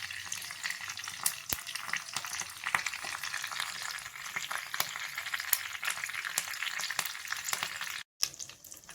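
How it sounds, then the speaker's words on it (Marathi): Cumin, mustard seeds, curry leaves and Kashmiri chili crackling in hot oil for a chutney tempering, a dense continuous spitting sizzle with scattered sharp pops, a brief dropout near the end. "तेल छान असं कडक झाल्यानंतर जिरं, मोहरी, कढीपत्ता, काश्मीरी मिरची असा छान असा तडका देऊन घ्यायचा आहे"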